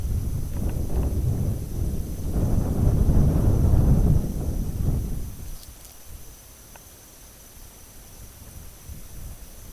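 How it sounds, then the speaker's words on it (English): Wind gusting outdoors at night near a cemetery tree line, a broad low rumble that swells loudest in the first five seconds and then drops to a quieter steady blow. "now the wind's picking up, so we're not even gonna hear it"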